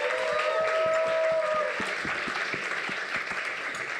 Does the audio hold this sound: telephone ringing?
no